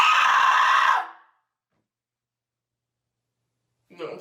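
A woman screams loudly and alone for about a second, the sound breaking off abruptly into silence, with a brief vocal sound returning near the end.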